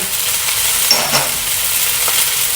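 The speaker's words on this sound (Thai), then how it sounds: "แล้วก็ผัด ขยี้นะคะ ให้เส้นเขานิ่มนะคะ" Rice noodles stir-fried in a pan with dark soy sauce and seasonings: a steady, close sizzle with a couple of brief scraping strokes from stirring, and no voices.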